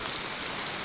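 Heavy afternoon rain pours down in a dense, continuous hiss of drops on surfaces, steady and loud for a brief moment with no voices.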